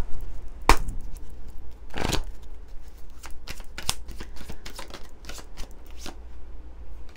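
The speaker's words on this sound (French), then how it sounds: "j'ai envie de prendre quelques cartes alors du Line of Love" Oracle cards from a Line of Love deck are shuffled in a run of crisp riffling flicks and soft slaps, two louder riffles standing out among quicker, lighter card taps, close and without talk.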